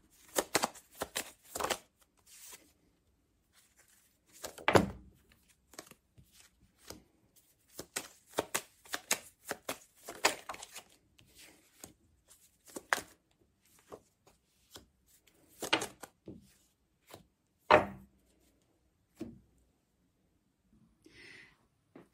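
Tarot cards shuffled and drawn by hand for a reading: dry, papery riffles and slides come in irregular bursts with pauses between, close up and fairly quiet, no voices.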